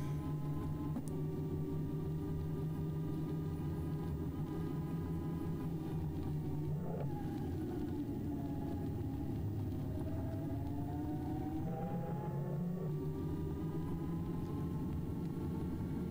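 A TOSEVEN DM02 small mid-drive e-bike motor run at 2.5 kW under load while climbing a fairly steep hill, giving a steady close whine and hum that shifts pitch around the middle and near the end, with no talking.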